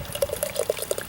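A double dry hopped hazy IPA is poured, a short close burble of liquid splashing and glugging into a glass with no voices.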